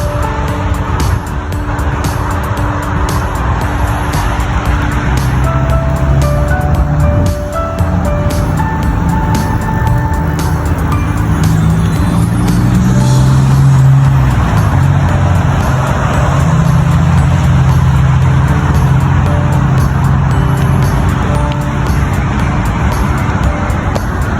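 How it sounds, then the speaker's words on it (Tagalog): Expressway traffic heard from inside a car is a loud, continuous engine and road drone, with a low rumble that swells toward the middle and fades again. "Traffic."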